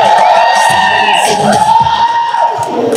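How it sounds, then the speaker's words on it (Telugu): Loud audience at a film pre-release event cheering, whooping and shouting in a sustained roar, with a steady tone and faint voices running underneath. "గట్టిగా చప్పట్లు."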